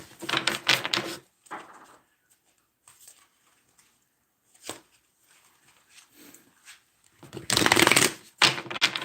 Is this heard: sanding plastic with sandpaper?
no